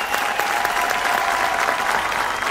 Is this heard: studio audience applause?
yes